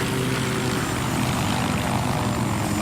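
A video-game helicopter's rotor and engine drone on in a loud, continuous throbbing roar with a dense low-end beat, steady throughout and with no voices.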